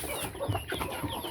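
Farm chickens cluck softly a few times close by, with light scratchy background noise and no talking.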